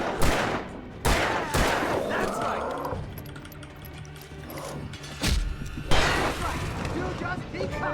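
Gunfire in the video game Alan Wake Remastered: several sharp shots in bursts, near and loud, with crashing impacts and a dense game soundscape between them.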